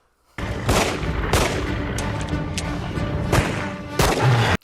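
Rapid gunfire from the 1999 creature film Lake Placid: a dense run of sharp, loud shots over a thick, noisy action background, with several heavier bursts and no talking.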